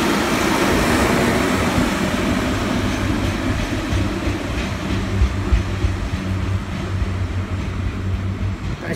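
A train passes at Deansgate on a service bound for Manchester Piccadilly, a steady loud rumble with rail clatter that holds for the whole stretch and fades slightly toward the end, with no talk over it.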